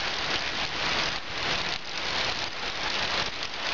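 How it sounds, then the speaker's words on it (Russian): Heavy rain pours down steadily just after a hailstorm at a country cottage, heard from under a porch as a dense, even hiss with no voices. "Ливень у нас продолжается, но вроде град закончится."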